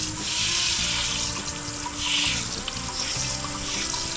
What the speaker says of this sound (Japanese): 水洗いした後、洗剤で洗いました。